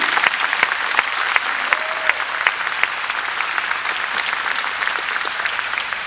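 A crowd applauds at the 1990 rollout of the first plane built in Mississippi, steady outdoor-sounding clapping from many people with a few sharper individual claps standing out, continuous and fairly loud.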